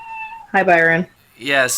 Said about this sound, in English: if you hear that in the background, that is my cat.